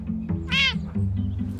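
A single short meow from a cat in a boarding cattery in Somerset rises briefly over a steady low room hum, near and clear, with no talk.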